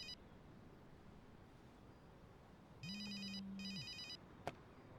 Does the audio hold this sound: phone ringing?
yes